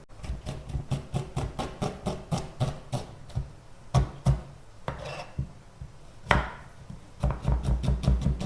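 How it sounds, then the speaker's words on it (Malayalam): Onion and tomato being chopped with a knife on a board for a prawn roast lunch, a fast run of sharp, close knocks in steady bursts with a couple of short pauses and scraping sounds between. "നമുക്ക് ഉള്ളി തക്കാളിയൊക്കെ ഒന്ന് അരിഞ്ഞു കൊടുക്കാം"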